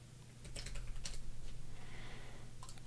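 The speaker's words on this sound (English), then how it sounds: "we got to type all this" Fast, fairly faint typing on a computer keyboard, with irregular clusters of key clicks over a low steady hum.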